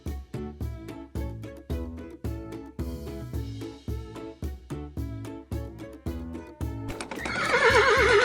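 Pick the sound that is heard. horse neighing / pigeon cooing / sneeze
horse neighing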